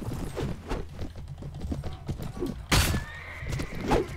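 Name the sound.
horse galloping and neighing in Mount & Blade video game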